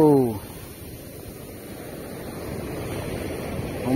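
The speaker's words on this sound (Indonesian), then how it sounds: "Ombaknya gede banget cuy" Big ocean waves surging onto a beach as a broad, steady roar, rising slightly toward the end, close by with wind noise, after a brief voice at the start.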